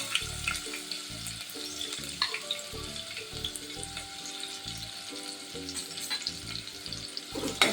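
Medium-sized onion and a quarter spoon of asafoetida frying in oil with garlic, giving a steady close sizzle with scraping stir strokes and faint watery clatter running throughout, no voices.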